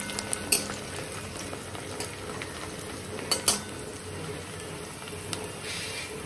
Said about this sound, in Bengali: পেঁয়াজ ভাজতে দিয়ে দিয়েছি।